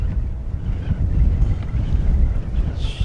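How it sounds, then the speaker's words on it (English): Gusty wind buffets the microphone outdoors at a campsite in Glen Etive, a steady low rumble swelling and easing for the whole stretch with no talk. "Wee bit of a gust blowing up here"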